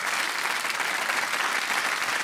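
Studio audience applause fills the whole stretch at a steady, dense level, a continuous wash of many hands clapping with no voices standing out, during a late-night comedy talk show.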